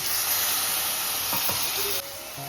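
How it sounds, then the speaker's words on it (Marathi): A steady, loud hiss of a little water hitting hot frying mutton gravy in a pan, with a few soft knocks partway through and a slight drop in intensity near the end. "त्याला आपला ग्रेव्ही तळण्यासाठी थोडंसं पाणी टाकून मस्त"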